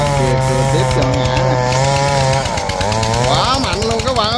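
A homemade vehicle's engine roars loud and close as it hauls a large log tied on with rope, the rasping pitch rising and dipping with load while a voice talks over it.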